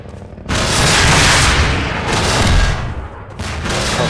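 Loud, rumbling rocket blasts and bursts of gunfire-like booms in Half-Life 2: Episode 3 (The Closure mod), with heavy bass and little pause between them.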